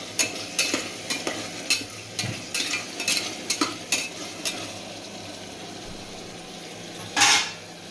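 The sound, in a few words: frying masala with tomatoes in a pan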